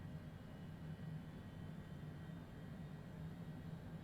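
A flight simulator aircraft engine hums in a low, steady drone at moderate level with no clear rise in pitch, heard alone without talking.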